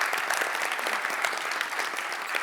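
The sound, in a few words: audience round of applause for event organizers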